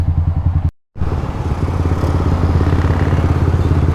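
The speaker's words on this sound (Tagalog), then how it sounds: "daming motor tsaka sasakyan" Motorcycles and cars sit idling in a crowded traffic jam on a road in Laurel, Batangas, a steady close rumble of engines with a dense low throb. The sound cuts out briefly near the start, then the engines resume and run on continuously.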